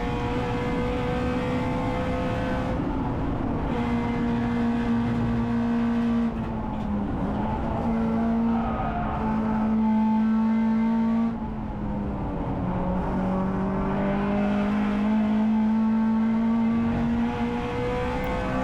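Honda Integra DC2 Type R racing at Cadwell Park in a CSCC Tin Tops race, heard from onboard: a loud, continuous high-revving engine rising and falling through gear changes, with occasional lifts off the throttle.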